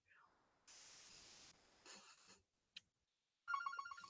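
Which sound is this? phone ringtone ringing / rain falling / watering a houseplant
phone ringtone ringing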